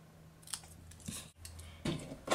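Scissors snip paper for a birthday card banner at close range, a few short crisp cuts separated by quiet pauses.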